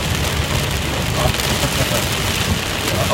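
Torrential rain hammers down in a constant, loud wash during a flooding downpour on the road home, with a low rumbling undertone and a voice speaking under the noise.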